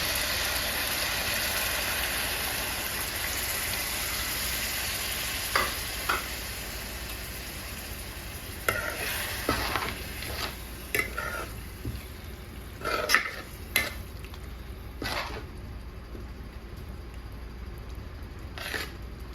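Tamarind juice poured over softened onions for a dried-fish stew, bubbling in the pan with a soft, steady sizzle broken by scattered clinks and sharper splashes in the second half.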